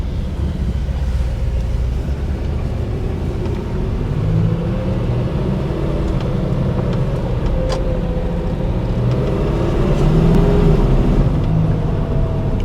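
A Mercedes S-Class 3.5 W111 with a V8 engine pulls away and cruises, a loud steady engine drone heard from inside the car that rises slightly as it accelerates, with no talk.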